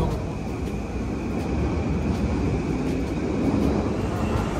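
A train rumbles steadily along an elevated railway in Ginza, Tokyo, heard from the street beneath the tracks as a continuous, fairly loud broadband roar with no break across the whole stretch.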